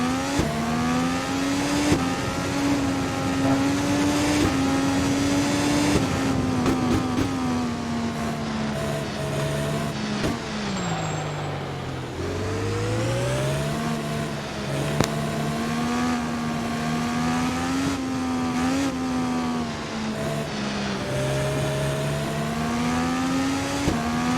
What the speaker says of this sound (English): That gray and pink car ahead of us of Kyle Kirkwood is our next target for P6